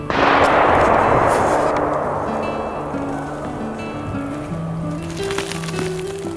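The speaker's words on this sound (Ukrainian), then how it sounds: "з крайнього флангу пролунав постріл" A single loud hunting rifle shot opens, its blast rolling away into a long fading echo over faint background music-like tones.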